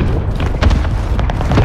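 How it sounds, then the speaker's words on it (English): A single sniper rifle shot fired in Call of Duty Warzone, a sharp distant boom with a low thud, coming through a busy game soundscape. "Oh, he's getting sniped at by someone else."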